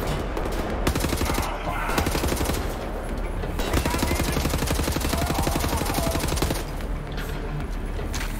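Rapid automatic gunfire in the shooter game Wolfenstein: The New Order, dense and continuous bursts filling the scene with brief lulls, loud and close.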